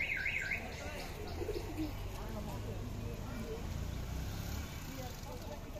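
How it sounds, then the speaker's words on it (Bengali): Pigeons coo and chirp at a pigeon farm in Bangladesh, a steady flock sound with soft low coos layered under brighter twittering calls throughout, with faint background noise and a distant car. "কিছু কবুতর তারে আছে, এই যে নামছে"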